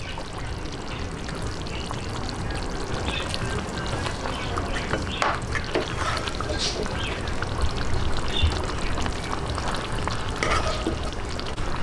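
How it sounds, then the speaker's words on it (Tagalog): Rice poured into a thick sauce for Filipino arroz valenciana, a paella-style dish, makes a steady close rustling, sizzling wash that continues without a break from start to finish. "ilalagay na po natin itong ating rice."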